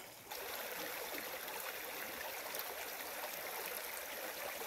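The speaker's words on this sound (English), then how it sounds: "We have reached Rock Creek." Rock Creek on Section 5 of the Colorado Trail rushes along as a continuous, close, full wash of flowing water, steady from start to end with no voices.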